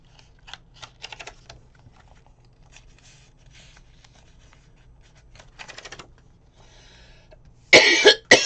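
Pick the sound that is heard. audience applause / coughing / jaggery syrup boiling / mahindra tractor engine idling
coughing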